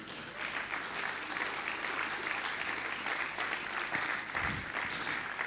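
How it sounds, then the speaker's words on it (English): Steady, moderately distant applause from a forum audience greets a woman invited to the stage, holding at an even level throughout. "a round of applause for Mrs. Nimi Akinkugbe"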